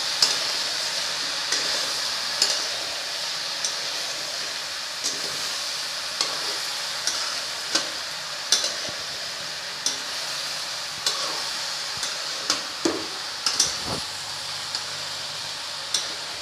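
A spicy ridge gourd curry sizzles steadily in a pan while a spoon stirs it, with regular scraping clicks against the metal over a continuous hiss of frying.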